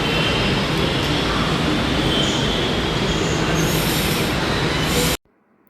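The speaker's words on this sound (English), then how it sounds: "this is the Khairatabad metro station" A metro train roars loudly and continuously at Khairatabad metro station in Hyderabad, with rumbling wheels and a faint squeal before the sound cuts off abruptly.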